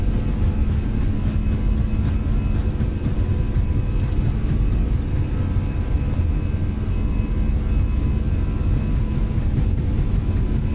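Airbus A320 engines at takeoff thrust inside the Fenix A320 flight simulator: a steady, loud low roar and rumble that holds evenly throughout, with no voices over it.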